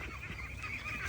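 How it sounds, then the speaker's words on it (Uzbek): Young Indian Runner ducks, about two and a half months old, give a short burst of steady, nasal honking calls, close and clear with no talk over them. "Indiyskiy begunlik jo'jalarimiz sotiladi."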